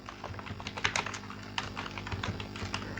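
Rapid, irregular clicking of keys on a computer keyboard while typing out simple HTML code, close and steady throughout with no voices.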